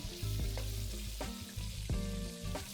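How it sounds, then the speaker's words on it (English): Sliced onions sautéing in a pan for Kerala-style mutton chops, a steady close sizzle with stirring scrapes and clinks of a utensil against the pan throughout. "we need to saute these onions till they are translucent"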